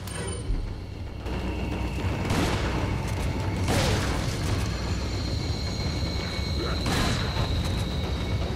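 Shotgun blasts in the video game Resident Evil 4: about three heavy, booming shots spaced a second or more apart over a constant bed of game ambience and mechanical noise.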